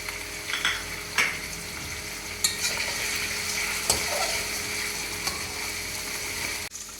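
Chicken pieces with salt frying in a pan while being stirred, a steady close sizzle broken by occasional scraping strokes of a utensil against the pan, with no talk.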